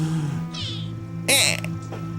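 Short kitten-like meows, a couple of high squeaky cries with a sharper yelp near the end, heard over a low steady hum with some speech in the background.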